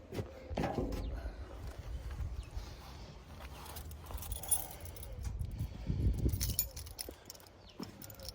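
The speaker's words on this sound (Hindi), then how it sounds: "यहाँ से घुसने के लिए ये चाबी हमें मिल रखी थी" Keys jingle and clink while a villa door is unlocked, with metallic rattles scattered through the clip and a louder handling burst near the end, close and fairly quiet.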